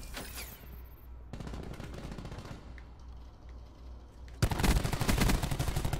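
Call of Duty Black Ops 4 gunfire in a Search and Destroy league match: sharp rapid bursts of automatic shots, then a brief lull, then a louder sustained volley near the end.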